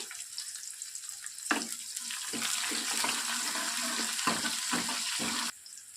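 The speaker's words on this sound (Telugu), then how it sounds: "అలాగే కట్ చేసి పెట్టుకున్నటువంటి ఒక చిన్న సైజు ఆనియన్ని వేసేసి బ్రౌన్ కలర్ వచ్చేంత వరకు వేయించాలి." Chopped onion hits hot oil for an Andhra-style drumstick dal and starts a sudden, close sizzle. The crackling frying holds steady for several seconds, then drops back to a quieter simmer.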